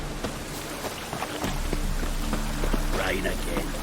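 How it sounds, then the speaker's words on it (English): Steady rain patters in The Witcher 3: Wild Hunt, with scattered droplet ticks over a constant wash, while voices talk over it. "Rain again."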